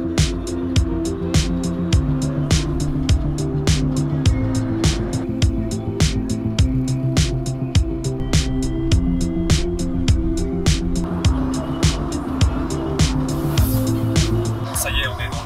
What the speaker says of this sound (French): on est dans le taxi qui nous emmène dans notre Airbnb